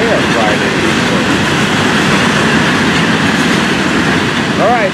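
FEC freight train rolling past close by, a loud, continuous rumble and rattle of cars that holds steady throughout with a brief squeal at the end.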